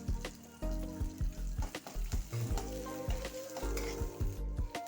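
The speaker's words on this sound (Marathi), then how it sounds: "आणि आता हे छान कांद्यासोबत शिजू द्यायचे कांद्यासोबत टाकले म्हणजे ते शिजले जातात" Onions and green peas fry in a pan for a samosa filling, a soft steady sizzle broken by repeated scraping and stirring strokes of a utensil against the pan, with no voices.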